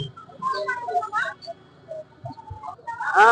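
Local village chickens at a rural market stall, several short clucks and calls scattered through the clip amid faint market murmur, with a louder burst of clucking at the end.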